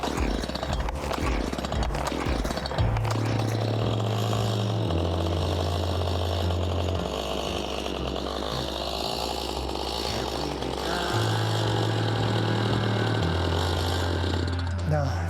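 A Stihl chainsaw that won't stay running cranks and settles into a loud, steady idle with uneven low engine drone throughout, close by and continuous.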